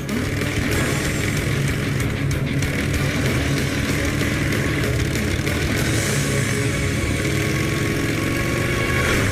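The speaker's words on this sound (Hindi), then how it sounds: "वो मेरी बाइक ले गया।" A motorbike engine runs as the bike is ridden away, a loud, steady mid-pitched drone with slight revving that fills the whole stretch without any voices.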